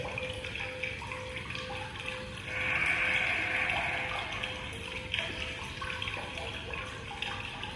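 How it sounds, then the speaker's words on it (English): Running water murmurs as a soft, continuous wash within background music at a yoga class, steady and low in level, swelling slightly for a few seconds before settling back. "Listen to the running water in the background music."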